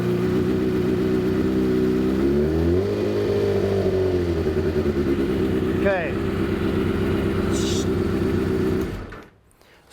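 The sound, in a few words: 2019 Kawasaki ZX6R motorcycle engine running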